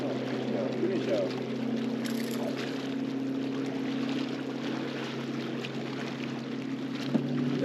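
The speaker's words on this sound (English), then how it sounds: "Wind's blowing right into it." Wind blowing steadily across a main lake point, a constant rushing wash with a low hum underneath, with some indistinct voices in the background.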